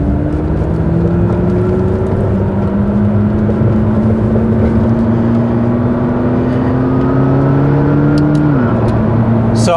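A McLaren MP4-12C supercar drives with loud, steady engine drone heard from inside, the pitch climbing gradually and then dropping sharply at a paddle-shift gear change, with no voices.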